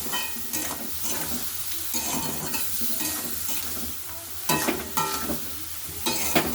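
Potato and soybean chunks with spices are sautéed in a pan for a chickpea dal, with a steady sizzle under rhythmic spatula scrapes and a few sharper clanks against the pan, close up and without talk.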